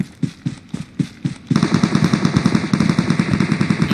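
Rapid gunfire from a sniper rifle and other guns in the mobile battle royale game PUBG Mobile, first as distinct spaced shots, then a dense, continuous barrage of loud cracks with no talking.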